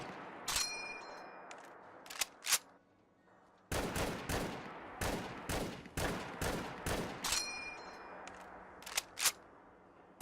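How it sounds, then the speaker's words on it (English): An M1 Garand rifle modded into Fallout 4 fires a run of sharp, loud single shots with ringing metallic tails, spaced about half a second to a second apart, plus a couple of isolated shots and a pause between groups. "It sounds like a real M1 Garand"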